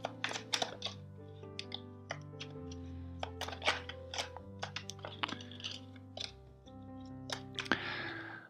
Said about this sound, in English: First let's shuffle four times.